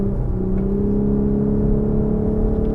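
A 2020 Lexus LS 500h AWD hybrid sedan cornering with a high-pitched electronic CVT, giving a steady droning engine hum and a low rumble of road noise heard from inside the cabin.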